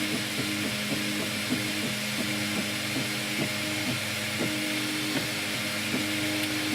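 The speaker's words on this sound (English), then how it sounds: "the printer's now laying the next layer opposite to the first layer" A 3D printer laying down a print layer, with a constant whirring hum from its fan and motors broken by rapid clicking ticks in an irregular rhythm, close up with no voices.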